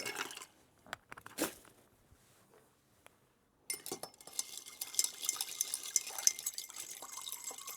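Ice clinks and rattles in a mixing glass as a gin cocktail is stirred with a spoon, starting as scattered faint taps and then building into a steady close jingling swirl.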